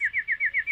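A hornbill gives a quick series of six bright, evenly spaced chirping calls, clear and fairly close with little background.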